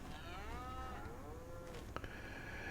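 Beef cattle mooing inside a shed in a farming game, a long, low drawn-out moo that wavers in pitch, faint and somewhat distant over a steady background hum.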